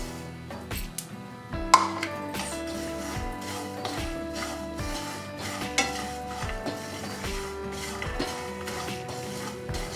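Sesame seeds and poppy seeds dry-roasted in a pan, with repeated clinking scrapes of a spoon against metal in an uneven rhythm over a light crackle, close and without talk.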